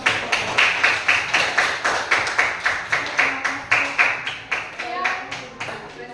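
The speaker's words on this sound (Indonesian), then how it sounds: "kasih tepuk tangan" A small group in an Indonesian classroom claps in unison after a group presentation, about twenty sharp, evenly spaced claps in a steady rhythm that slows slightly near the end.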